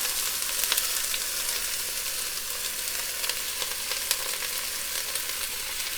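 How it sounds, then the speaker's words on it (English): A large batch of onions sizzles loudly in hot olive oil in a pot, a steady dense hiss with scattered sharp pops and crackles throughout. "the first thing I'm going to do is add a bunch of onions to this pot"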